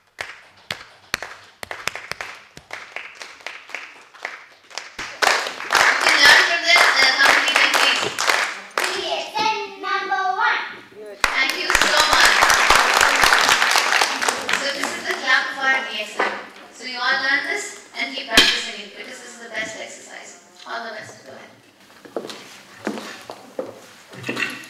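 Group of women at a DXN products training camp clapping in the DXN style, rhythmic bursts of hand claps that build into sustained loud clapping, with voices and talk between rounds.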